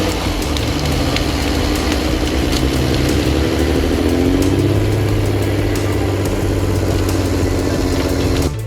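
Logging tractor stuck in deep mud, its engine droning steadily and loud throughout, pitch rising and falling slightly as the machine rocks back and forth.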